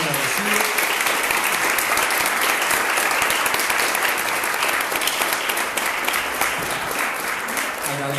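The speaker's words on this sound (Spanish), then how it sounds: "Así que quería pedirles un aplauso a los invitados del día de hoy" An audience at an architecture school event applauds its guests, a dense, sustained wash of clapping from many hands filling the room throughout.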